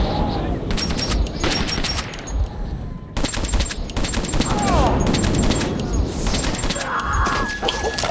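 Repeated bursts of AK assault rifle fire in the shooter game Metro 2033, loud and close, in clustered volleys with brief pauses between them, with a voice speaking over parts of the action.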